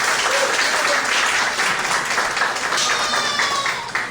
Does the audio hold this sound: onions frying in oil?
no